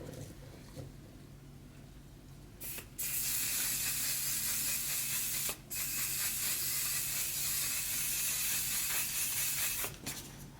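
A makeup setting spray bottle, nearly empty, hisses in short bursts followed by one long, steady spray, close and clear with no talking.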